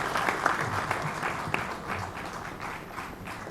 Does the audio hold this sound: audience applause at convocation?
yes